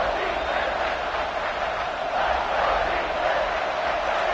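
A stadium crowd in College Football 26 roars in a steady, broad wall of cheering behind the defense on a big third down, with a commentator's voice faintly under it.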